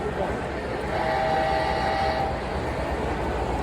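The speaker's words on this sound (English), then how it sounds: "We got a P42 in the Amtrak Pepsi Can Heritage Scheme." A model Amtrak P42 locomotive in the Pepsi Can Heritage Scheme runs at a railway hobby show, giving a steady rumble with a brief whistle-like tone partway through, all set against loud crowd noise and talk.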